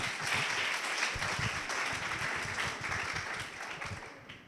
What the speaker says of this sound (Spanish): Él es Camilo Ruiz, un fuerte aplauso para él.